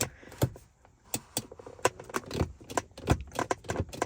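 Car keys for a BMW E46 jangle and clink in irregular bursts, close and fairly loud, with no talking.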